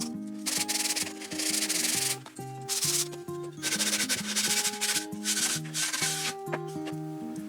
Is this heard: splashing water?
no